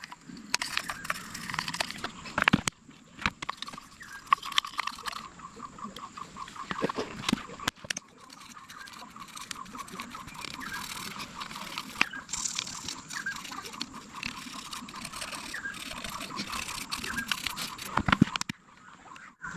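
A small wet brush scrubbing the throttle body of a Hero Xpulse 200 motorcycle, giving faint uneven scratchy swishing strokes with brief clicks and knocks, fairly quiet and close.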